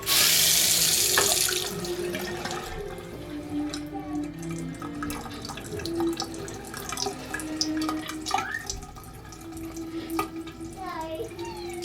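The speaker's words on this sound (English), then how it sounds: "Okay, I'm gonna leave this faucet running." A household faucet runs steadily to drain the water lines of a home plumbing system during HVAC humidifier servicing, a constant close rush of water with occasional drips and clinks.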